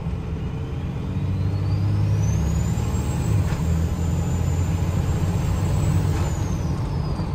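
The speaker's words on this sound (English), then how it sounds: "I'm gonna do another half throttle pull." A 2002 Cummins diesel truck with homemade compound turbos makes a loud, steady half-throttle pull from inside the cab. The deep engine drone sits under a rising turbo whistle that climbs, holds high and then falls away.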